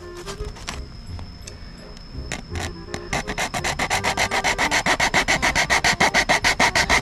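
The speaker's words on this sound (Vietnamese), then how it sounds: "Rồi anh em sẽ bắt đầu cưa." A 247 plastic bottle being sawn with a hand saw, first scattered scrapes and knocks, then a steady loud rhythmic back-and-forth rasping of strokes, close up.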